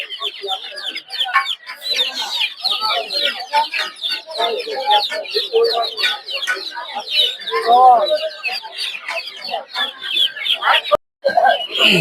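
A dense, constant chorus of clucking chickens and peeping chicks fills a busy poultry market in Narsingdi, Bangladesh, with voices talking underneath throughout.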